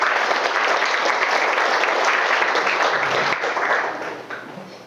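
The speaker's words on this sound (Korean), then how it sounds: "우리 마정환 대표님 뜨거운 박수를 한번 쳐주십시오" Audience applause at a university information session, dense continuous clapping from many hands that holds steady for about four seconds before tapering off.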